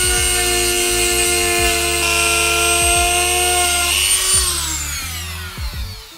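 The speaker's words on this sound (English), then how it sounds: "Let's put a new grinder on the tip." A handheld rotary tool fitted with a new grinding bit whines at high speed, steady for several seconds, with repeated short grinding bursts, then spins down near the end, loud and close.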